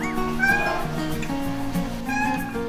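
A cat in heat gives loud, drawn-out, wavering meows in close succession, with a moaning, caterwauling quality and a low tonal background underneath.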